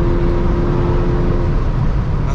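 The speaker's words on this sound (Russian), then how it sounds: "Машина очень быстро приближается, особенно когда она черного цвета." A black car comes up fast from behind on a highway, heard as a loud, steady whooshing road roar with a faint tonal whine from inside a moving vehicle and no voices.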